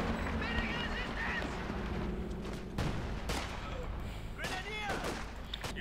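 Artillery and gunfire from a Company of Heroes 2 match, with scattered shots and sharp blasts breaking through a dense, continuous layer of battle noise and distant explosions, sometimes under commentary.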